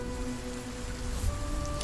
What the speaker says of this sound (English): look up at the sky as the rain coming down